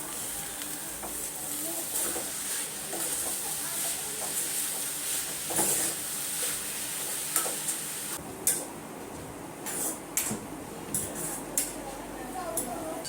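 Steady sizzling and hiss of red amaranth greens frying in a pan, with occasional stirring scrapes and clatters growing more frequent toward the end.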